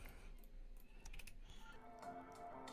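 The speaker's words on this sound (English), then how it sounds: "Click delete on my keyboard to get rid of the rest." Faint computer keyboard key presses, a few soft clicks against a low background hum.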